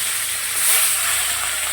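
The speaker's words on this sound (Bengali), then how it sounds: "মাছটা ভেজে নিচ্ছি।" A piece of katla fish rubbed with salt and turmeric fries in a pan, giving a loud, steady hissing sizzle throughout with no voices.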